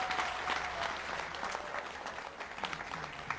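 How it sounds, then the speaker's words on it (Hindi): An audience at a televised Hindi kavi sammelan poetry gathering claps loudly to welcome a poet. Dense, even applause carries on steadily for a few seconds with no voice on top. "जोरदार तालियां बजाइएगा"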